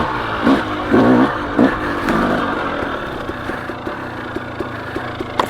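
A KTM 250XC or 300XC two-stroke dirt bike engine drops from a loud roar to a lower, steadier drone as the rider pulls the clutch to slow down, with a few quick blips early on.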